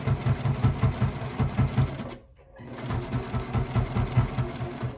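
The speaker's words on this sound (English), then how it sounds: "So I'm going to sew." Sewing machine stitching a fabric face mask, a close, steady rhythmic needle chatter that pauses briefly midway and then resumes at the same pace.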